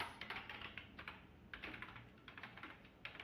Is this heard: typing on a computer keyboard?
yes